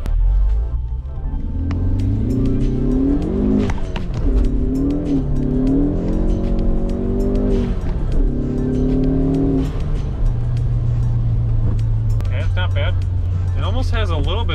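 Inside a Ford Focus ST with its resonator deleted, the exhaust drones and burbles as the engine revs up and down through gears, a low steady rumble under someone talking throughout.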